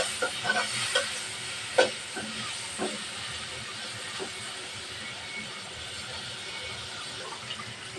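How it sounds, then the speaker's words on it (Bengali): Shrimp fry in an oil-filled pan in a home kitchen, a steady close hiss broken by scattered crackles and pops early on, with no one talking. "মাছটা ভালোভাবে ভাজা হয়ে গেছে"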